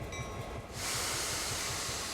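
A GP38-2 diesel locomotive in Train Sim World 2 on the Sand Patch Grade, with low rumbling idle and a steady broadband hiss that swells sharply under a quarter of the way in and then holds loud and constant.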